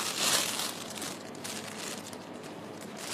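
A plastic bag crinkles close by in a kitchen while cookies are being made, with a brief burst of rustling followed by softer, continuous crumpling.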